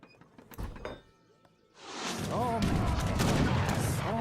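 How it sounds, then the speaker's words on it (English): Cannons fire in a battle in Age of Empires III, French civilization: scattered booming shots early, then a dense, loud roar of battle noise with gunfire and clatter. "Oh, cannons."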